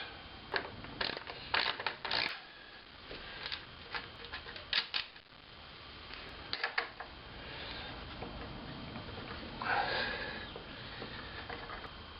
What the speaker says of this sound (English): I'm going to take and tighten up all these leg bolts really nice and tight.